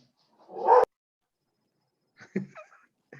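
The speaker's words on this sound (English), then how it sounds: "I hear a dog. It's excited." An excited dog gives one sharp bark, followed after a pause by a couple of quieter yips or whimpers, faint and somewhat distant during an online school conference.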